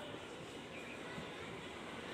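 A down Shantipur–Sealdah local train pulls into platform 1 at Fulia station, heard as a faint, steady rumble that runs through the whole stretch.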